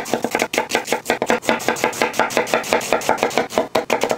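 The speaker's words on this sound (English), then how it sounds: "From here, we're gonna slice it as thick or as thin as you like," A knife slices quickly and steadily through cabbage on a cutting board, with dense rhythmic chopping strokes sounding loud and close throughout.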